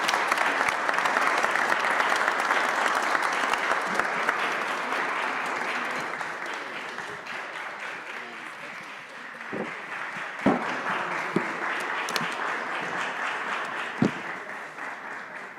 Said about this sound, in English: she does deserve a big round of applause